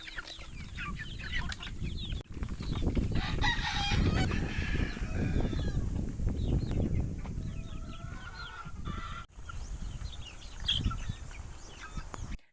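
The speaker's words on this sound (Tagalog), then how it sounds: "Mga gutom na ang cockerels" Hungry cockerels at a game farm crow and cluck busily at feeding time, several birds calling over one another at moderate distance across a steady outdoor background.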